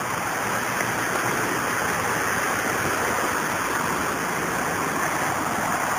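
Stevens Creek flowing along a trail crossing, a steady broadband rush of moving water that stays loud and even throughout with no breaks.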